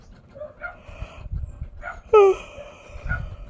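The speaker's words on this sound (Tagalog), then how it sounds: "Maingay ang mga aso sa labas, guys." A few dogs yip and bark at moderate distance, with one sharp, louder bark standing out among the scattered calls.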